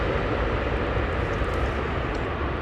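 A Boeing 777 airliner with big flaps extended departs Heathrow, its engines giving a loud, constant broadband roar that holds steady and fills the whole stretch without any voices.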